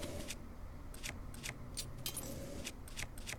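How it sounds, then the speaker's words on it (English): In Breath of the Wild, a weapon chops at a tree, giving short, crisp, clinking strikes. There are about eight hits at an uneven pace over a soft background hum, with no talking. "let's cut down this tree"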